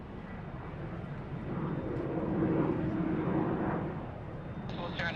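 Jetstar airliner landing on runway 34 left at Sydney Airport, a broad steady jet roar swelling to a peak mid-clip and easing off, heard at a distance under faint radio chatter.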